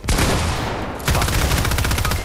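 Rapid automatic SMG fire in a shooter game, two long loud bursts close up, the second a fast rattling stream of shots.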